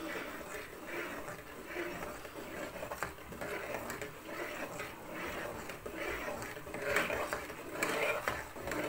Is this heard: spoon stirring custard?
yes